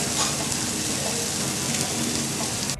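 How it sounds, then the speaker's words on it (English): Steak sizzles on the grill at Jess and Jims Family Steakhouse in Martin City, Kansas, a dense, continuous crackling hiss, close and fairly loud, steady throughout with no talking. "Now, you got to listen for the sizzle."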